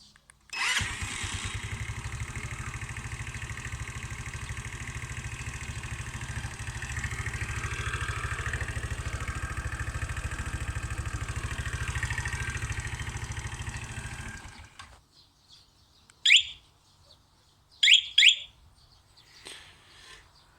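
A scooter's small engine starts by remote start and runs with a steady buzzing idle for several seconds, then cuts off, followed by a few sharp electronic alarm chirps.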